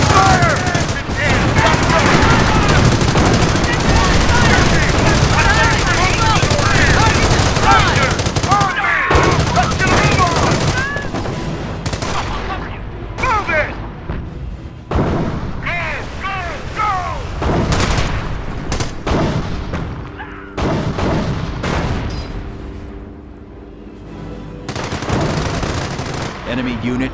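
Incoming enemy gunfire and artillery in Company of Heroes, with dense machine-gun bursts, rifle shots and booming impacts roaring continuously, then thinning into scattered cracks and blasts while soldiers shout under the noise.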